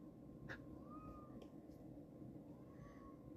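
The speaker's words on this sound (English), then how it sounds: "My cat's yelling." A pet cat yelling to be let in, its meows rising and falling faintly across a few seconds beneath a steady background hum, distant and intermittent with no talking.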